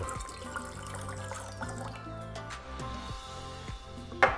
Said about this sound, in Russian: Добавляем туда коньяк 30 мл, как раз бутылочка 30 мл.